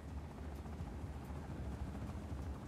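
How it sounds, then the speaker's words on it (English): A helicopter in the video game Just Cause 4 makes a faint, steady, low whirring thrum throughout, heard alone. "This helicopter's not doing me any favors."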